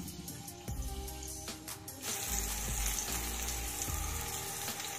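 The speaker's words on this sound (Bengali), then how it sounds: "আঁচ কমিয়ে নিয়ে বেগুনগুলোকে নেড়ে চেড়ে একটু লাল করে ভেজে নেব" Eggplant pieces frying in hot oil in a pan, a dense crackling sizzle that grows louder partway through and keeps bubbling steadily, close and with no talk.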